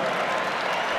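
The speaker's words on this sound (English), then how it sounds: "Tyus Battle checks out of the game in favor of Frank Howard, and gets a standing ovation from the crowd" Basketball crowd at a Syracuse versus Florida State college game giving a standing ovation, a dense, steady wash of clapping and crowd noise filling the arena at a constant loud level.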